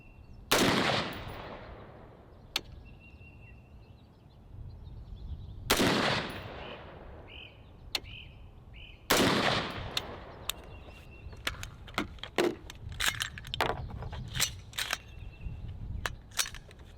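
AR-15 rifle shots fired at a paper target on an outdoor range at 50 yards: three loud, widely spaced single cracks with echo, then a quicker scatter of sharper reports and clicks.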